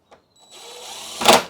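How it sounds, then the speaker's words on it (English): A power drill drives a screw into a plywood panel, a short rising whir building over about a second before a loud grinding burst as the screw seats, heard close and alone. "You can drive that one home."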